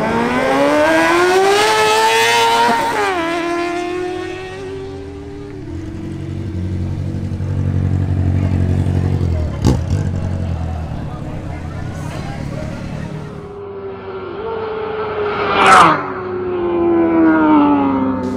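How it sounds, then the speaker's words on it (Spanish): A Yamaha R6 and a Honda CB1000R sprint off in a drag race, engines howling through rising rev sweeps with gear shifts, fading, then a second loud run climbs again, all under an announcer's voice. "Ahora se enfrentan la Yamaha R6 de Eduardo Moreno versus la Honda CB1000R de Luis López."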